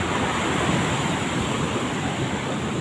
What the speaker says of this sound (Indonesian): Tuh, kenceng banget ombaknya.